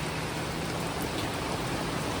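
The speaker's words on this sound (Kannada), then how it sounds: "ಮಳೆ ಫುಲ್ ಬರಕತ್ಬಿಟ್ಟೈತಿ ಇವತ್ತು" Heavy rain pours down in a dense, unbroken hiss, loud and steady throughout with no voices.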